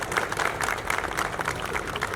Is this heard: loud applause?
yes